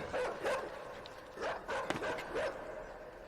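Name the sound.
dog barking in the video game Inside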